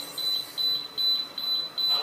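Alarm beeper on a DSE7320 diesel generator control board sounds five short, evenly spaced high-pitched beeps, faint and close with a quiet background.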